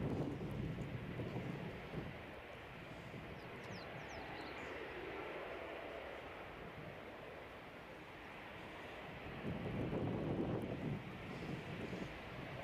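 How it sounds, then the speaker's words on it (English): Wind buffeting a microphone outdoors at Edinburgh airport, a continuous low rumbling roar that dips midway and gusts louder near the end. "Quite a lot windier."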